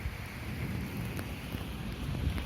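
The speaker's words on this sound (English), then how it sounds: "There you can hear the thunders in the distance." Low distant thunder rumbles steadily beneath rain and wind noise as a storm approaches a city, a dull continuous roar with no voices present.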